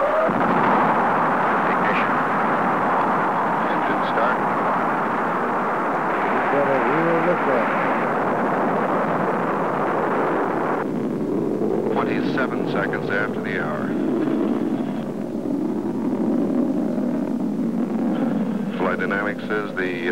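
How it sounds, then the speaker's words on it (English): Gemini rocket liftoff during the 1965 Gemini VI and VII missions, a loud continuous broadband roar that holds steady throughout while radio voices and mission-control talk run over it. "Rocket running."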